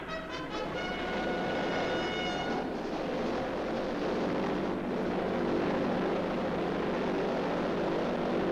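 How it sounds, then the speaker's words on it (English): Propeller cargo airplanes of the Berlin airlift pass overhead, a broad droning roar that swells and holds steady for several seconds, fairly loud and continuous. "Plane after plane."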